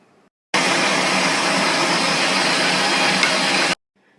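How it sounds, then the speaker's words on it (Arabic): A meat grinder mincing a fish kofta mixture, a steady loud motor whir that starts abruptly, runs evenly for about three seconds and cuts off sharply, heard up close without talk. "ممكن تطحنوها على ماكينة اللحم العادية اللي بنعمل عليها الكبة أو اللحمة المفرومة"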